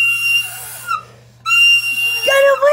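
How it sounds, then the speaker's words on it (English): A person whistling in loud, shrill bursts, a steady tone that breaks off briefly and resumes, then slides into rising and falling pitches near the end. "Stop doing your whistle."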